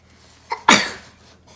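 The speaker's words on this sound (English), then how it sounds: "I sneezed because of the pepper." A single sharp sneeze bursts out close and loud after a short breathy intake, set off by ground pepper during a kids' balloon experiment, then fades into quiet.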